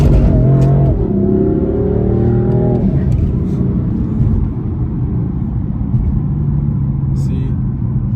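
A BMW 435i pulls away from a stop in second gear, its engine note climbing in a rising rev for a few seconds before settling into a lower, steady rumble, loud and close from inside the car.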